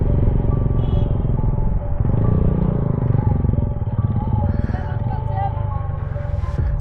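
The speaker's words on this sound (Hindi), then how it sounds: "तो अब ये बाइक राइड कर रहे हैं," Motorcycle ridden on a road trip from Lahore to Skardu, a steady loud engine drone with road rumble and wind, continuous throughout with occasional clatter.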